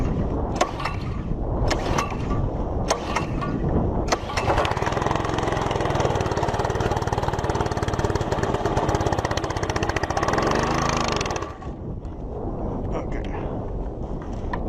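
A Simpson MSH3125 gas pressure washer's small engine runs loud and steady, a dense continuous roar with a brief lower rumble and drop in level near the end.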